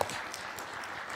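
A room at a city council meeting claps for a birthday, giving a steady wash of scattered applause from a modest crowd, fairly faint and continuous.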